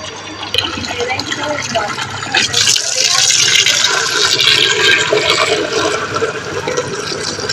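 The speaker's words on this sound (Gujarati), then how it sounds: "હવે ટાંકો ભરાવાની કેરીમાં છે" Water rushes and splashes continuously into a storage tank, a steady loud pour that grows fuller after the first couple of seconds.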